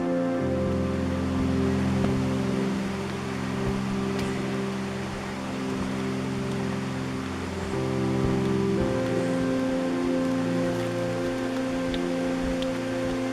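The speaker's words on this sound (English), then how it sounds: "It's a waterfall." Waterfall at a water crossing on a wilderness trail in Shining Rock Wilderness, North Carolina, a steady rushing roar of falling water with an even, unbroken texture throughout, alongside a low constant hum.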